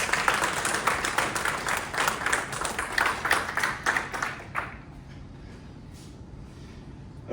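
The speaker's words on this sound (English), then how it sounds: "Round of applause" Audience applause at a community event celebrating Jewish diversity with a book launch, a few seconds of steady clapping from a moderate crowd that fades out abruptly, leaving quiet room tone.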